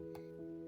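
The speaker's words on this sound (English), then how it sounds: "Poor Pedro Pony has a nasty cough." A single short, sharp cough from a pony character in a Peppa Pig read-aloud cuts in loudly after a quiet stretch with a faint steady hum.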